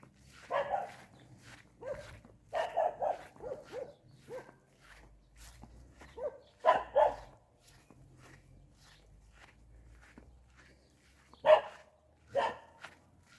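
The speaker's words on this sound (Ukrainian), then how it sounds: "Собака на вулиці." A dog barks repeatedly at irregular intervals, fairly distant and outdoors, with quiet gaps between bursts and some rustling.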